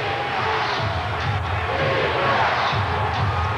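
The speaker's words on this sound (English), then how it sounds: "Fans going crazy here at the MCI Center" Sellout crowd of over 20,000 basketball fans roaring at the MCI Center during a Wizards–Heat game tied late, a steady, dense wash of cheering and crowd noise throughout.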